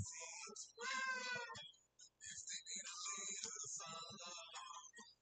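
A pet cat calls at a door indoors, letting out several faint, drawn-out high meows with short pauses between them, and quiet household background noise underneath.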